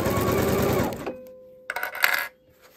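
A sewing machine stitches across a welt pocket in a rapid, close whir that stops after about a second, followed by a short clatter of fabric handling and a brief second burst.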